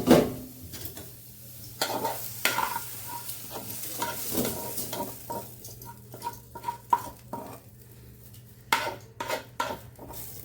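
Cabbage leaves frying with black cumin in a pan, stirred with a utensil that scrapes and clinks against the metal in irregular bursts over a steady low sizzle, close and fairly loud, with no talking.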